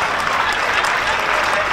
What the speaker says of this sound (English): A round of applause to the Minister of Internal Affairs.